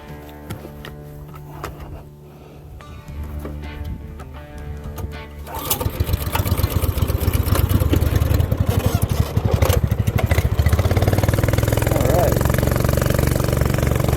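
A shifter kart engine on a dirt track fires up partway through, jumping from a quieter hum into a loud, continuous buzzing drone that stays close and steady, while a person talks over it.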